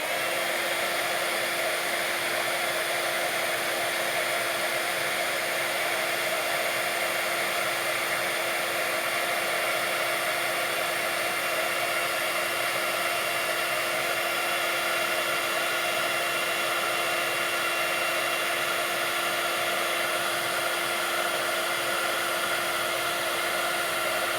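A heat tool blows hot air over mixed media beads, a steady, close, continuous fan roar with a hissing airflow that holds unchanged throughout.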